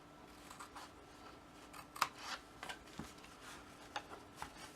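Scissors snip through a thin embossed copper sheet with a vintage leaves pattern while mitering the corners of a box, giving a run of small, crisp metallic cuts and clicks at an uneven pace, close and fairly quiet.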